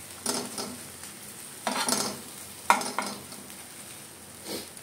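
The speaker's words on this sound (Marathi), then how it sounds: "आता बऱ्यापैकी जरा मिक्स करून घेतो मी." Egg bhurji being stirred in a frying pan, with a spatula scraping and clinking against the pan in a few short bursts over a soft, steady sizzle, close and moderately quiet.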